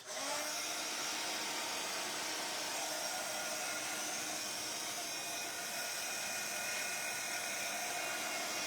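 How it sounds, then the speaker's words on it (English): A hair dryer blows steadily on wet paint in an art journal, a loud continuous whooshing hiss that starts abruptly and runs unbroken without talk. "Let's get the dryer out."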